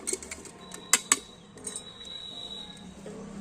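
A spoon knocks and clinks against a can while tossing spiced guava pieces for Bengali street-food peyara makha, a few sharp metallic taps near the start, then quieter scraping.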